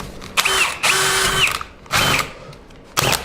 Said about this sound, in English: I'm going to use the same drill bit, a 3/4 inch paddle bit